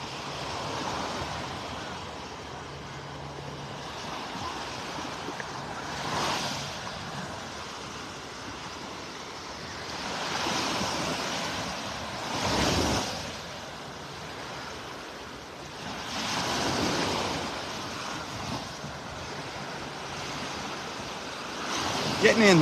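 Small ocean waves break over a sandbar at a beach in Naples, Florida, each rolling wash of surf swelling and fading every few seconds against a constant seaside hiss.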